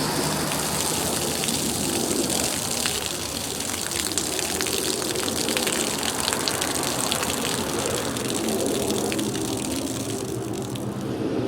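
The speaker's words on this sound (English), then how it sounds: "Now we'll let the water out and watch the pocket hose deflate." Water gushes steadily out of a deflating pocket garden hose, a continuous close rushing splash with a rain-like hiss that holds at an even level throughout, with no voices.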